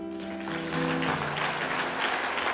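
A church congregation bursts into applause, dense clapping swelling after a held note from instruments and continuing steadily.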